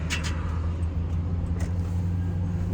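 A van rolls slowly along a road at about 25 mph, its engine and tyre rumble a steady low drone with faint road hiss throughout, no talking.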